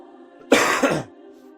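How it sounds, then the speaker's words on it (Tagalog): A single short cough, sharp and close, with a rough throat-clearing edge, breaks briefly over an otherwise quiet background. "Sorry, ayun narinig nyo, di ba? May ubo pa."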